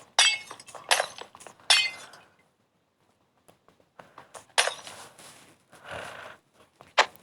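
Glass blocks breaking in a Minecraft-style block game, several sharp shattering crashes in quick succession early on, a quiet pause, then more clinking breaks and a final crack, loud and close with no talk.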